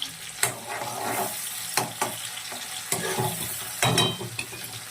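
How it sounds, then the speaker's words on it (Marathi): Chopped tomatoes sautéing in a hot pan with onion and coconut, a constant sizzle broken by periodic scraping stirs of a spoon against the pan, close and clear with no voices. "हा टोमॅटो घातल्यानंतर 2 मिनिटं छान परतून घ्यायचं"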